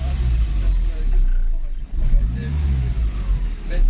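A close Toyota Corona engine rumbles low and steady, its tone lifting and dropping as the throttle is briefly revved.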